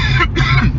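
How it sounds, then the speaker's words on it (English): A person coughs in two quick, rough bursts close to the microphone during a casual podcast recording, with no talk over it. "pardon my cough."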